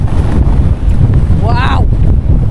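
Strong wind at the beach near a cliff buffets the microphone with a loud, continuous low roar throughout, broken only by a brief rising and falling high tone.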